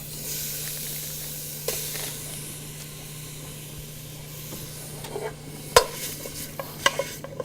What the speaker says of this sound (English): we're just gonna stir a little bit. We're gonna cook it